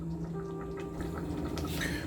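A cup of water gurgles and splashes into a cooking pot of Cuban-style chicken fricassee with potatoes, a continuous close bubbling pour over a low background hum.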